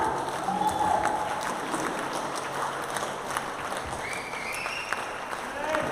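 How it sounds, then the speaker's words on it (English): A church congregation claps steadily through a worship service, a dense continuous patter of hands filling the room, with voices calling out and singing mixed in underneath. "Come on, clap for the Lord."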